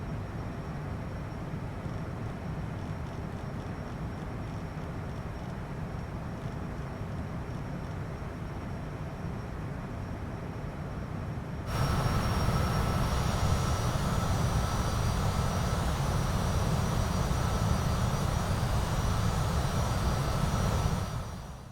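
Cessna Citation CJ4 business jet in Microsoft Flight Simulator, a steady engine roar heard from the cockpit that jumps noticeably louder about halfway through and holds there, with no voices.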